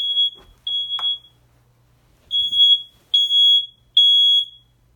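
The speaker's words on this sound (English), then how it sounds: "That's just a regular little battery operated smoke detector that we have in the house." A small battery-operated household smoke detector emits a series of shrill, piercing beeps, four long tones with short gaps, loud and close in an otherwise quiet room.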